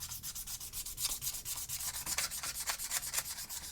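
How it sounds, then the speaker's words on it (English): Fine sandpaper rubbed around the corroded capstan of a Lafayette 8-track tape player, a fast, steady back-and-forth scratching close to the mic with no talking. "for the capstan, I'm just going to use some fine sandpaper"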